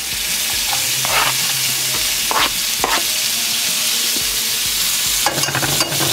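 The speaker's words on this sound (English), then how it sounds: "to that I'm adding one small diced onion" Diced onion frying in vegan butter in a pan, giving a loud, steady close sizzle with a few brief stirring scrapes and clicks scattered throughout.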